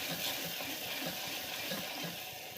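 Salt being stirred into spices frying in oil for a bottle gourd curry, a soft continuous sizzle with faint scraping stir strokes, quiet and steady, no voices.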